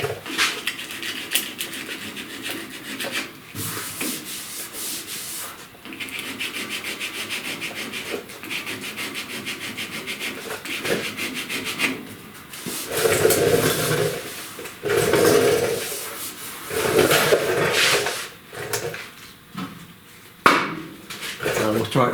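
Hand sanding feathers body filler on a truck cab corner with 80-grit paper, a close, rhythmic rasp of repeated strokes that comes in uneven bursts with short pauses, getting louder and coarser in the second half.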